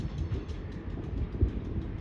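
Vermont Railway freight locomotive 210 shoving cars near the Connecticut River at Bellows Falls, a low, distant rumble of rolling rail cars with soft rhythmic thumps, steady and alone without talk.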